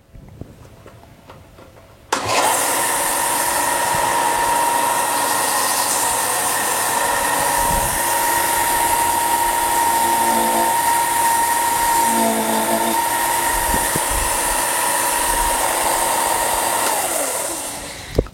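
A belt sander runs with a loud, steady, high-pitched whine for about fifteen seconds, close by, with brief changes in tone as a large eraser is pressed against the moving belt before the motor winds down.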